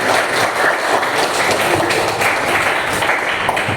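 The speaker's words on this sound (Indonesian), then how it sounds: "tepuk tangan buat kita semuanya" Applause from a classroom of students during an Arabic language lesson, a steady wash of clapping hands close by with no voices over it.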